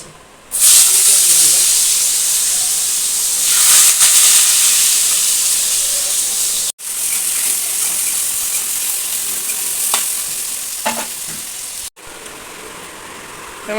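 Potatoes fry in hot oil in a wok, a loud, steady bright hiss and sizzle that runs continuously with a couple of abrupt breaks and faint clinks.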